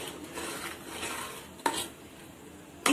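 Sugar syrup cooking in a pan while being stirred: soft continuous scraping and swirling, with two sharp utensil knocks against the pan partway through and at the end.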